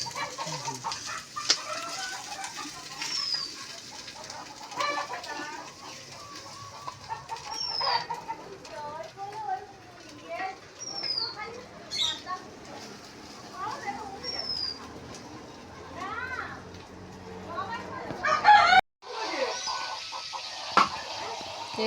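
Desi chickens kept on a home farm cluck and call in scattered bursts, with other bird chirps around them, while people talk softly nearby through most of the stretch.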